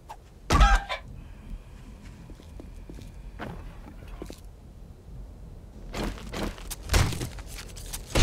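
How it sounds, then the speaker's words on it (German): Clucking and crowing from a chicken in the survival video game 7 Days To Die, sharp squawks at the start and near the end amid soft footstep-like taps and quiet ambience. "Ich habe ein Huhn erlegt. Das hat sich hier im Kreis gedreht."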